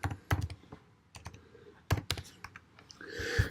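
Keys tapped on a computer keyboard while entering a git command, an uneven run of close, sharp clicks with short pauses and a slightly louder final keystroke.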